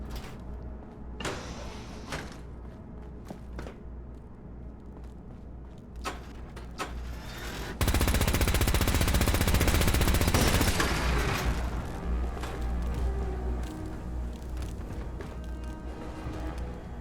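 Gunfire in Fallout 4: scattered single shots and thuds, then a loud sustained burst of automatic fire that slowly trails off into rumbling noise.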